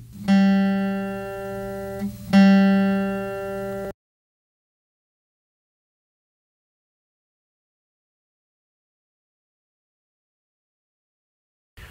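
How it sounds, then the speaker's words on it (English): Two plucked guitar notes on the third (G) string ring out one after the other, each sustained for about two seconds, clear and close, followed by silence. "On the third string, we're going to play 2 notes"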